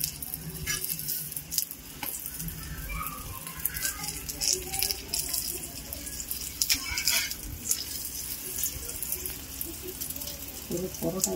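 A paratha fries in oil in a pan, close crackling sizzle with bursts of spatter and some stirring or pressing noises, while someone talks intermittently over it.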